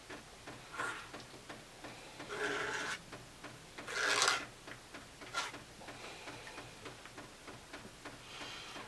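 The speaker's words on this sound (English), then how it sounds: "by scraping at it, you're pulling out the yellow on the bottom" Something scrapes across a surface to uncover a yellow layer beneath, producing soft, raspy strokes in irregular bursts with quiet gaps between them, close and fairly faint, with no talking.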